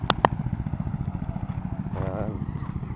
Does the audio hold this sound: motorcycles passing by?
yes